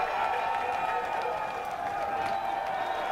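A crowd applause sound effect plays, giving a steady, dense wash of clapping and cheering at an even level throughout, without any breaks.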